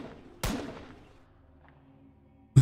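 A single sharp gunshot in a video game, loud and close, with a ringing tail that fades over about half a second, followed by quiet and another abrupt hit at the very end.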